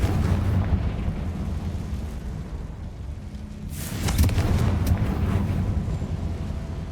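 A Confringo fire spell detonates in Hogwarts Legacy, a broad rumbling blast with a crackling burst after a few seconds of low ambient roar, fairly loud and close.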